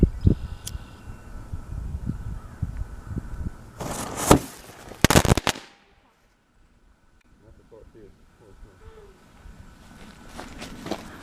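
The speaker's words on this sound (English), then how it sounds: "now we'll start off with firecracker number 1, which I believe is just straight flash powder" A homemade straight flash powder firecracker buried in ashes goes off with a couple of sharp loud cracks after scattered handling noise, followed by near silence and faint ambient sounds.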